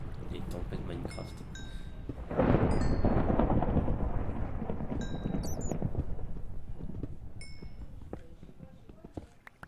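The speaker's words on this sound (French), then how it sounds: "Les tempêtes Minecraft." A Minecraft thunderstorm: a broad crash of thunder bursts in a few seconds along and rolls on as a long, loud rumble with a rain-like wash, over low background sound and short high game tones.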